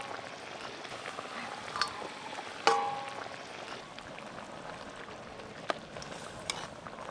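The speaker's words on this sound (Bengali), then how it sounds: "এবার ভেজে রাখা সব কই মাছগুলো দেবো।" Fried koi fish go into boiling coconut-milk malaikari gravy, giving a steady low bubbling sizzle with a few sharp splashes and clinks, the loudest about a third of the way in.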